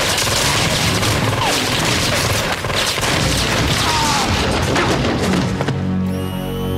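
Heavy gunfire rattles through a RoboCop film scene in a dense, loud, continuous barrage mixed with booms and crashes, dropping off abruptly near the end.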